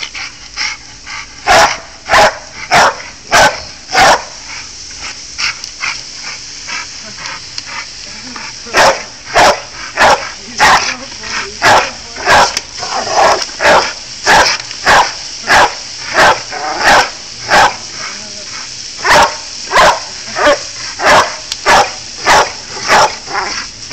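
A pitbull barks and yips playfully in loud, close bursts, coming in quick runs with short pauses and a few whimpers between.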